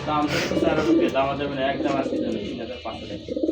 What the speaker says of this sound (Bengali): এটা হলো মাদি কবুতর আর এটা হলো নর